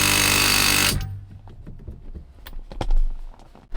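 An impact wrench briefly hammers a steering wheel nut on a Cadillac DeVille during a wheel install: one loud, dense burst of about a second, then quiet clicks and handling taps close by.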